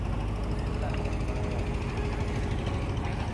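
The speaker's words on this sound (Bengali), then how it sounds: "এই ইঞ্জিন অন হয়ে গেল।" A boat engine runs steadily with a low, continuous rumble after starting, out on the open water of Tanguar Haor wetland, a constant drone with no breaks.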